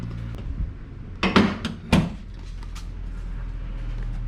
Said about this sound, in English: Let me close the hood.